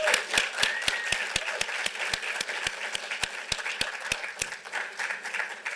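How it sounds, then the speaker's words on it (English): A crowd at a Fair Housing Month evening event applauds the Vermont Human Rights Commission with steady clapping from the room. A regular sharp tick runs through it and stops before the end. "So could we have a round of applause for the Vermont Human Rights Commission?"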